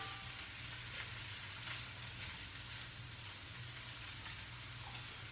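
Orange-ginger tofu stir fry cooking in a pan: a faint, continuous sizzle with a low steady hum underneath and occasional soft stirring sounds, heard from a little distance with no talking.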